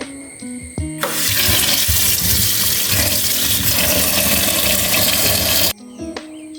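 Tap water runs steadily and close for about five seconds over cut sweet potato pieces being washed in a kitchen, beginning and ending abruptly, with quieter handling clatter before and after.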